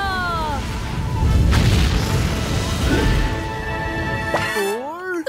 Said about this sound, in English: 10, 9, 8, 7, 6, 5, 4, 3, 2, 1, blast off!